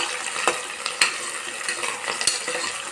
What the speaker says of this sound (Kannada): ಆನಿಯನ್ಸ್ನ ಆಯಿಲಲ್ಲಿ ಚೆನ್ನಾಗಿ ಫ್ರೈ ಮಾಡೋಣ.